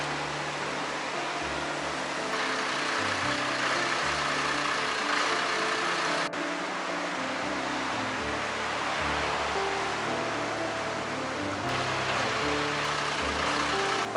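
Hanoi airport bus number 86 on the road to the train station, a low steady engine drone with road rumble heard from inside, shifting gently in pitch as it drives, with no one talking.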